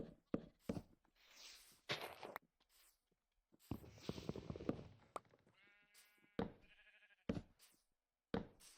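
Sheep in the Minecraft video game bleat repeatedly in short separate calls, some close and loud, others softer, with a few clicky knocks between them.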